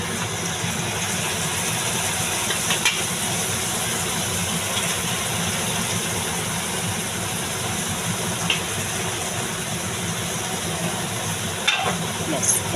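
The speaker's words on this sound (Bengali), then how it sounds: "এবার আমি ভালো করে এটা কষিয়ে নেবো, কষিয়ে মাছটা দেবো" Boal fish pieces with potato, spices and green chillies sautéing in a pan, giving a steady, close frying hiss with occasional stirring scrapes throughout.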